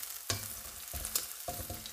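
Diced bacon sizzles and spits in a cast-iron Dutch oven, with steady frying crackle broken by three or four stirring scrapes and bumps, fairly quiet and without talk.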